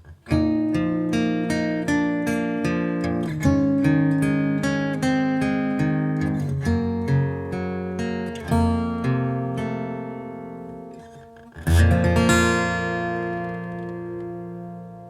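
An electric guitar plays the chord progression of a song from Cowboy Bebop, arpeggiated chords picked steadily and up close, with a bright strummed final chord ringing out alone.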